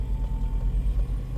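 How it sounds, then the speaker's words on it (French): A car manoeuvring slowly in a parking lot gives off a steady, close low engine rumble with gentle swells and no voices. "il y a une voiture qui est en train de manœuvrer"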